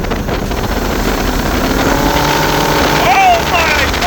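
Jet boat engine revving under throttle, a loud continuous roar blended with heavy wind noise on the water, and a voice speaking over it.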